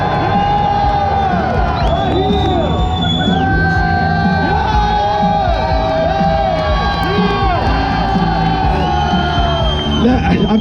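Rowdy crowd at the SEMA Show in Las Vegas cheering, whooping and yelling continuously at close range, a dense wall of excited voices with shouts rising over the top throughout.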